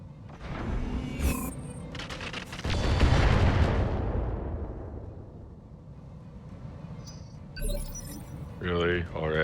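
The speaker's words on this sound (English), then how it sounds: "Howitzer artillery." Howitzer artillery fires in the video game Roguetech, a heavy booming blast with a long rumbling decay, followed by sharp clinking and impact effects, with people talking over the sounds.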